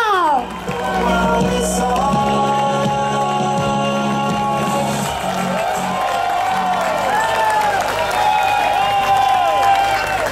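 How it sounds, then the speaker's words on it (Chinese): An audience at a coffee-shop political forum applauds and cheers for the speaker, with a steady crowd roar and clapping throughout, mixed with whoops, children's voices and warbling tones. "让我们再一次把掌声献给超人邱鹏耀"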